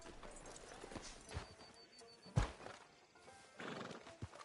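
A horse in Red Dead Redemption 2 snorts and whinnies outside a town sheriff's office, hooves shifting with a few sharp thumps, nearby and moderately loud with no talk.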